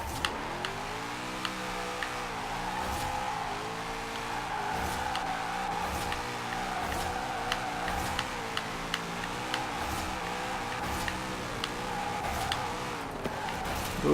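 A Formula Drift Nissan 240SX in Forza is drifted through cul-de-sac donuts, its engine droning steadily and tires scrubbing continuously for the whole stretch, with sharp ticking transients scattered throughout.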